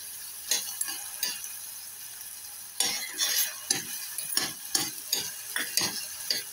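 Rice frying in a pan for brown fish rice, stirred in uneven bursts of scraping and clinking over a low sizzle, quieter at first and then busier, with no talking.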